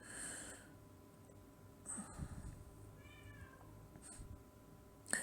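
A female house cat meows several times, a couple of clear calls spaced a second or so apart plus a snort-like breath, close by and moderately loud over a low room hum, with no speech.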